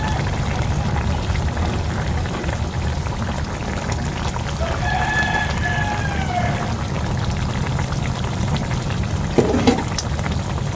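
Chili peppers go into a frying pan of hot oil, raising a steady close sizzle that runs throughout, with a faint whistling tone midway and a brief clatter near the end, no talking.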